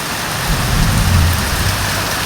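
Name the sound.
rain with thunder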